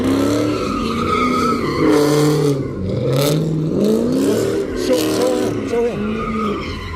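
A Dodge Scat Pack doing a burnout, engine roaring and revving with a sustained loud tire squeal and skid noise throughout, rising and falling in waves, with voices faintly underneath.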